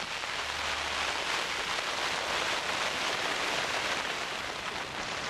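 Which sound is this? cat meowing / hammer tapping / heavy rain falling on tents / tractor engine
heavy rain falling on tents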